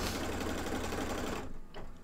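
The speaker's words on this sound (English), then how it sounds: "So now we have quilting stitches." A sewing machine running quilting stitches through a mug rug with batting, a loud steady motor whir and rapid needle chatter up close that halts abruptly, leaving a few faint clicks.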